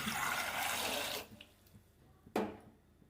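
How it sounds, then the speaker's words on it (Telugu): Water runs steadily into a pot for about a second, then stops, followed by a sharp clank. "వాటర్ వేసుకుందాం"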